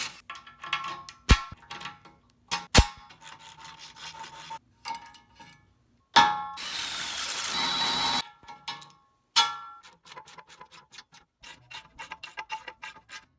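A ratchet tightens half-inch bolts on a steel-frame CNC router. Bursts of quick, dry clicking come close by and are broken by short pauses, with a brief harsher rasping stretch midway and no speech.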